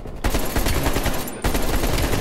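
Rapid automatic AK-47 fire in a video game, a dense run of loud close shots with a brief gap partway through before the burst resumes.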